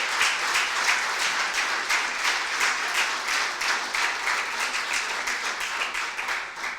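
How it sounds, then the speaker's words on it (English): A school audience applauds the new head boy at a 2015 mentorship launch, steady dense clapping that stays loud and even for the whole stretch. "Give him a round of applause for that."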